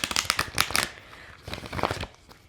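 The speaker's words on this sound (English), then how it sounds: "I didn't shuffle these cards, so hold on." Tarot cards are shuffled by hand in close, crisp bursts of riffling and flicking, two clusters of rapid papery rustles separated by a short pause.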